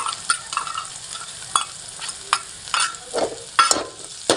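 Ginger and chillies are sautéed in a pan, with repeated spoon scrapes and clinks against the metal over a soft frying hiss, irregular strokes coming close and fairly loud.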